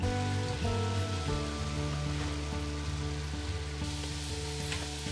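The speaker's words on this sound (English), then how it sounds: "I'm going to saute until they're soft before adding in the flour and the curry" Vegetables sauté in a soup pot, giving a steady, close sizzle with a fine crackling hiss and no voices.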